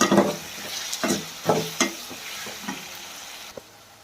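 Tomatoes frying in a pan for a dry fish curry give a continuous sizzle, punctuated by repeated stirring strokes that fade toward the end, close up and without speech.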